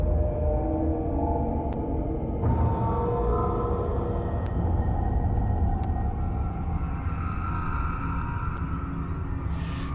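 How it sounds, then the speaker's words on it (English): Dystopian drone patch from Project SAM's Free Orchestra library, a dense, dark sustained rumble with low layered tones and a shift in texture partway through, continuous and loud with faint high pings. "Like in this case, we do have the dystopian drones"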